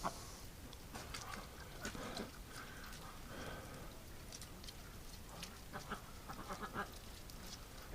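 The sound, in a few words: Muscovy ducks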